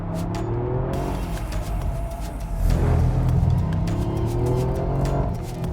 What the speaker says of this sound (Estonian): lõpetan korra jutu, et lihtsalt seda külglibisemist nautida